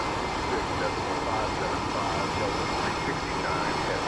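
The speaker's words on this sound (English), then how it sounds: "Oh look, we can finally hear the engines." Simulated jet engines of an MD-11 airliner in Microsoft Flight Simulator 2024, a steady broadband roar and hiss holding at an even level throughout, moderately loud and continuous, with faint talk underneath.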